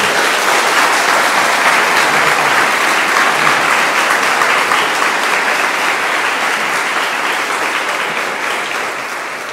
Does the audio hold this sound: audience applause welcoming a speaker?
yes